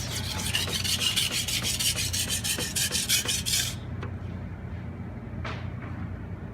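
A kitchen knife stroked against a whetstone in quick rhythmic rasping passes, a steady scraping series that stops partway, followed by quiet and one short final scrape, close up with no talking.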